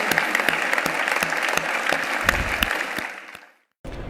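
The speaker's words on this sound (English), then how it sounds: "may we all give a big round of applause for the amazing presence to celebrate the women achievers" Round of applause from the audience at a women achievers congress, dense clapping with a few sharp nearby claps, steady for about three seconds then fading out to near silence before a brief burst returns.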